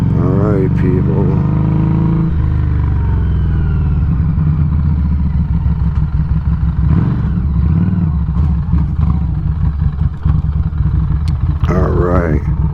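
A Harley motorcycle with a raw, unmuffled exhaust rides along, its loud steady engine roar rising and falling with throttle changes, with a few brief revs and some wind noise.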